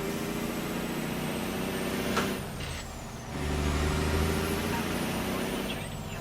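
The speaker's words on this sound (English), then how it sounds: "Give us a good chance to hear this engine outside anyway." A heavy truck engine in American Truck Simulator idles with a steady low rumble, broken midway by a sharp hiss of air brakes before the engine drone continues.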